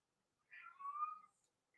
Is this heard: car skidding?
no